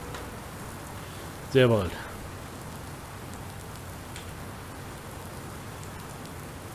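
Steady rain in the farming game Landwirtschafts-Simulator 19 fills the whole stretch as an even, hissing wash, with a short spoken phrase briefly rising above it.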